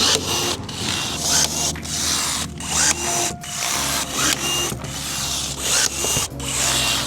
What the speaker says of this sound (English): you need a rivet gun